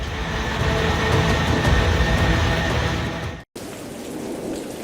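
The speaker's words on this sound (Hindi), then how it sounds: "ज्यादातर इलाकों में तेज बारिश का सिलसिला थम नहीं रहा है" Heavy monsoon rain in Gujarat pours down continuously with a deep rolling rumble of thunder underneath, then a brief cut before the downpour continues.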